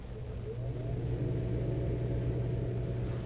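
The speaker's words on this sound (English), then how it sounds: "That sound you're hearing is actually a fan that's running inside the fireplace." Fan running inside a sealed fireplace, a steady low hum and rumble heard close by, constant in level throughout with no talking.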